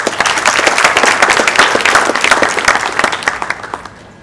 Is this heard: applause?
yes